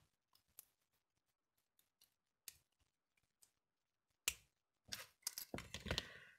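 Scissors snip through small metal brad fasteners on a shabby-style altered paper clip craft, a few faint sparse clicks first, then several sharp close cuts and a cluster of crunchy snips near the end.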